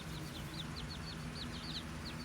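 Quiet chirping calls of young leghorn chickens repeat high and thin over a steady low hum, with soft clucking-like notes scattered throughout at a distance.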